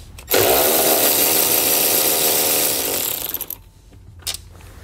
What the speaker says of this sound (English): and we'll loosen up that bolt